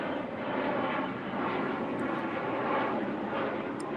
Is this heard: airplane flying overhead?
yes